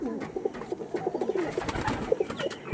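Pigeons of Andhra, Madras and similar fancy breeds coo close by in soft, overlapping throaty calls, with a few fluttering and rustling noises mixed in.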